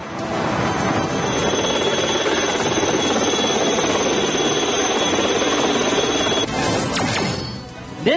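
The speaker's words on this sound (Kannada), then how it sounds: "ಭಾರತೀಯ ಸೇನೆ ಹೆಲಿಕಾಪ್ಟರ್ಗಳನ್ನು ಬಳಸಿ ರಕ್ಷಣಾ ಕಾರ್ಯ ನಡೆಸುತ್ತಿದೆ" Steady loud rotor and engine roar of Indian Army rescue helicopters flying overhead during heavy rains in Karnataka, continuous throughout, with a sharp rising whine and clatter near the end.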